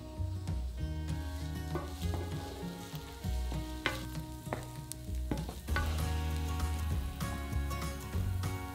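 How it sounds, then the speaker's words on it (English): Diced onion frying in vegetable oil in a large pan over medium to high heat, giving a close, continuous sizzle with stirring, steady and moderately loud for several seconds. "Add a large diced onion and cook for 5 minutes,"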